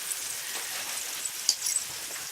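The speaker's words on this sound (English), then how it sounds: "You're getting that good sizzle going on there, Kenny." A slice of meatloaf fries in a pan, giving a steady, hissing sizzle with a few brighter crackles and pops and no voices.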